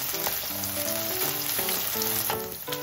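Pork belly and burdock root dusted in potato starch stir-frying in a pan, a steady close sizzle with scattered spatula scrapes and small clicks throughout, no voices.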